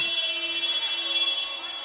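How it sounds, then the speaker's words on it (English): A basketball shot clock buzzer sounds at a U16 boys' schools cup game, a steady electronic tone holding for nearly two seconds over a background of arena noise before fading slightly. "Just throws that one up to beat the buzzer on the shot clock"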